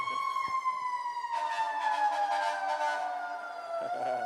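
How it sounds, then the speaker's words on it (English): A siren wails steadily with a slowly drifting pitch, moderately loud, with no talking over it. "Siren."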